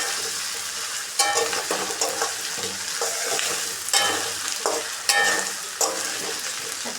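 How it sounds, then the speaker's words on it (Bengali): Potatoes are dropped into a hot pan and fried while being stirred, a steady close sizzle broken by repeated scraping strokes and clatters of the spoon, with no voices. "এখন দিয়ে দিব আমি আলুগুলো।"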